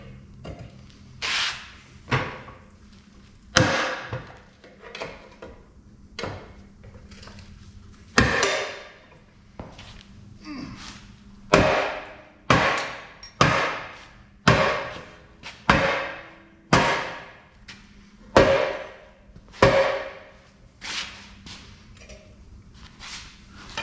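Brake retaining clips on a car being knocked and broken off, heard as a close run of about twenty sharp metallic strikes, scattered at first and then falling into a steady hammering rhythm, with no talking.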